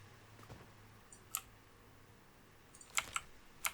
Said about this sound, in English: there are those who like the keyboard clicking